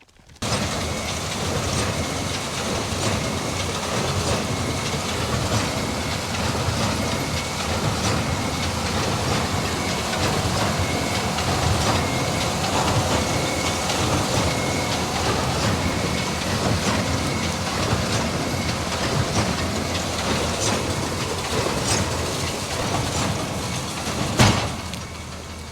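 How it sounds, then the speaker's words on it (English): A large hay baler works through rows of raked hay with a steady, dense mechanical rumble and clatter that continues throughout, ending in a sharp bang near the close. "our massive baler's coming along and baling it"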